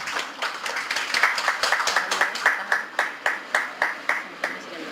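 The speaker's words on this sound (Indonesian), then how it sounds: "Boleh kita berikan tepuk tangan sekali lagi?" An audience at an Indonesian state ceremony for the handover of state loss repayment funds claps in a steady, rhythmic unison that stays loud throughout, with no speech over it.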